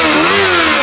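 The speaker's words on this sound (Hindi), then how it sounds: "फोन पे बात कर रहा है और साथ में मोटरसाइकिल चला रहा है" Motorcycle engine while being ridden, a brief loud close-up drone whose pitch rises slightly then eases, with no speech.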